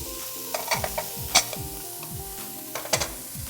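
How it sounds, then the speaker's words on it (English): Onions fry with a steady sizzle in a pan while a utensil stirs and scrapes them in scattered clicks and taps, close up, with no voices. "I'm lowering the heat now, and I'm going to add the onions."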